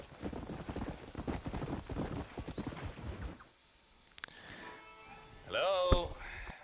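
Horse hooves clip-clop at a steady trot in Red Dead Redemption, a dense rhythmic patter for about three seconds that then stops, followed by quieter game ambience and a brief whinny-like tonal call near the end.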